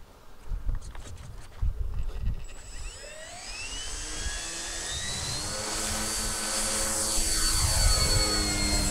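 A 1/7-scale RC Sopwith Camel model fighter plane flies overhead, its engine whine rising and sweeping in pitch as it nears and grows steadily louder over light background noise.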